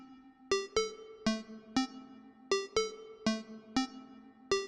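Three synth sequences on a Synthstrom Deluge play locked in phase, their bright plucked notes repeating in a steady, tight pattern of sharp attacks that decay quickly, clean with nothing behind them.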